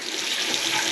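Water runs steadily from a faucet in a house being inspected for repairs, a constant close hiss and splash without pause.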